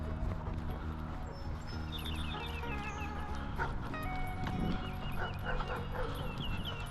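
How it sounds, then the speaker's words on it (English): A dog on a walk gives a few barks and whimpers amid outdoor background noise, with hoof-like clopping and other faint activity; the barking is moderate in level rather than close and loud. "even the barking can cause Min to get a little bit excited."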